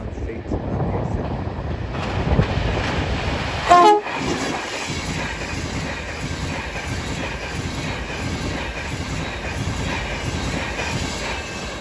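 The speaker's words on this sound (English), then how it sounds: "Soon to pass will be a French West Coast service going from Liverpool Lime Street to London Euston." A passenger train on the West Coast Main Line at Crewe, running from Liverpool Lime Street to London Euston, rumbles past close by with steady wheel and carriage noise and a brief horn-like tone near the start.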